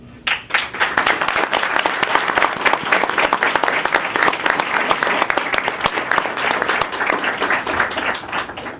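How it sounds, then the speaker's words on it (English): Audience at a school district board meeting breaks into a full round of applause, many hands clapping densely and loudly for several seconds, steady and close without speech. "I would like you to help me give a round of applause"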